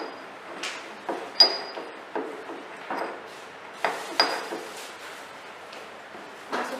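Tempe pounded in a mortar with a pestle: a series of irregular, fairly close knocks and grinding thumps, each a short sharp strike, spread unevenly over several seconds with no talk.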